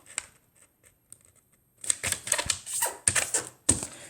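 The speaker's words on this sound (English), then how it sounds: "Fold it in half diagonally up." A square paper sheet is folded in half diagonally for an origami sword: quiet rustling at first, then a run of close, crisp crinkles and creasing snaps.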